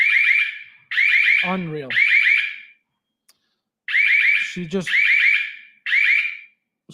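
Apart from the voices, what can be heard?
smoke detector alarm going off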